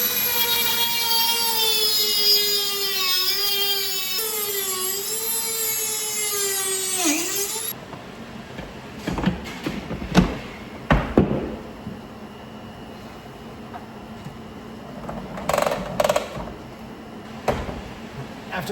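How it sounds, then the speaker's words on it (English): Mounting studs on an extension cord reel being cut down with a rotary tool: a loud high whine that sweeps in pitch for several seconds, then stops, followed by scattered clicks and knocks of handling. "After cutting the studs down and mounting everything"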